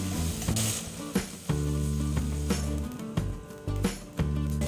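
Garlic, onion and tomato sizzle steadily in a hot pan, with a continuous frying hiss broken by repeated clinks and scrapes as the mixture is stirred, close and fairly loud.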